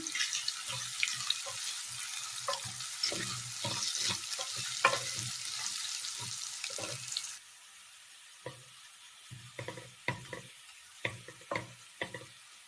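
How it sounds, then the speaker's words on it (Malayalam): Banana sizzling and being stirred in a pan, with scraping spatula strokes in an irregular rhythm; the sizzle drops out midway, leaving sparse stirring clicks. "ഇതിലേക്ക് അല്പം ഉപ്പ് ചേർത്ത് കൊടുക്കാം. നല്ലതുപോലെ ഒന്ന് വഴറ്റിയെടുക്കാം."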